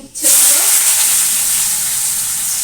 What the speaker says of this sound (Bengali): উচ্ছে গুলো আমি একটু হাফ ভাজা করে নেবো